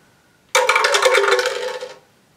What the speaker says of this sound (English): Make sure you shake that dice up real good before you drop it in there.